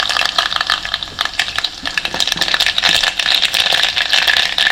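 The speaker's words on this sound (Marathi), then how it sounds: "मोहरी तडतडली की जिरं टाकायचं" Mustard seeds crackle and pop in hot oil for a buttermilk tempering, a dense, steady run of sharp little bursts that stays close and loud throughout, with no talk over it.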